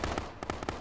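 Grenade blasts in the military game Arma ring out as a rapid series of booming pops within under a second, loud and dense, against constant rumble.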